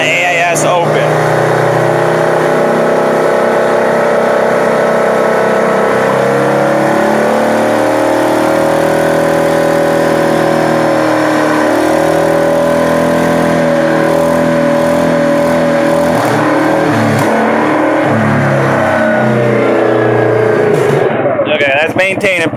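A 2016 Yamaha Grizzly ATV engine idles and runs steadily in gear with a fuel controller fitted and the AIS open, a continuous close mid-pitched drone with slight rises in revs throughout.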